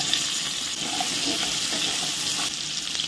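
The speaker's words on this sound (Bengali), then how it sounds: "আমরা এই কড়াইতে আলুগুলোকে ভেজে নেব," Potatoes fry in a wok with hot oil, a loud continuous sizzle close by with occasional soft scrapes and no talking.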